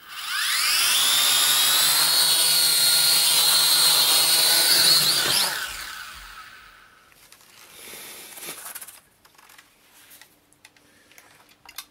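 Mobicaro Oriolus quadcopter drone in flight, a loud high-pitched whine of spinning propellers that rises in pitch, holds steady, then abruptly winds down and falls silent, leaving faint handling clicks and a brief murmur of talk.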